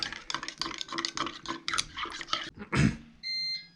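A multicooker beeps a short electronic tone signalling it is time to add carrots and onions, heard at the end after busy clatter of stirring and utensils in a pot.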